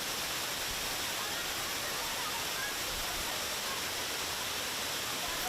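Constant broadband rush of a waterfall in Jambi, a multi-tiered natural cascade, heard as a steady, even roar with no breaks, moderately loud and unchanging throughout.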